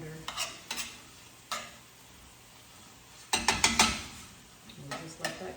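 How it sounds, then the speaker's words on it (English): Potatoes cooking down in a skillet as food is stirred, with a low background sizzle broken by scraping stirs and clustered clicking bursts. "It'll cook down and actually finish cooking the potatoes so they're"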